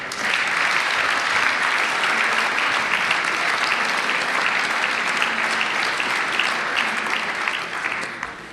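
Sustained applause from an audience at a Slovenian Armed Forces sportsperson of the year ceremony, steady and dense clapping throughout with no break.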